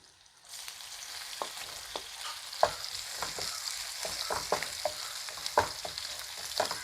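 Crushed dried red chillies and small shallots frying in hot oil in a pan, a steady close sizzle with scattered sharp pops and crackles throughout, no voices.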